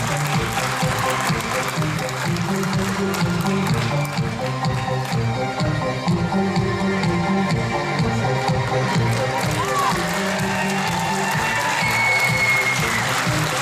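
A crowd in Del Rio applauds host George Noory as he is welcomed onto a UFO panel stage; the clapping is dense and steady, with a music-like hum underneath, and it stays loud throughout.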